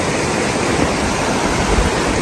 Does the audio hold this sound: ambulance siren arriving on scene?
no